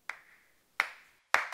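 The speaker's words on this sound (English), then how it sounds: "Start clapping, Benny." Three slow, separate hand claps, crisp and fairly close, spaced unevenly with soft ringing decay after each in a quiet space.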